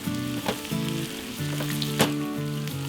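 Mushrooms sizzle and fry in a pan alongside bacon, a steady close crackle with a few louder pops and stirring scrapes, no voices.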